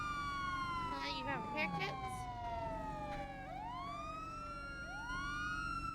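Police car sirens in the video game GTA wail and sweep in rising and falling tones, several overlapping, over steady engine hum while a person speaks briefly.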